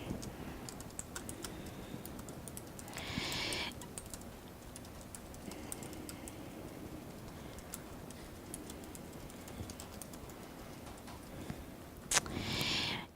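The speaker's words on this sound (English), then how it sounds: "You can go ahead and start typing in that box" Typing on a computer keyboard, soft scattered key clicks running steadily and faintly throughout, with a couple of brief louder rustling bursts, no voices.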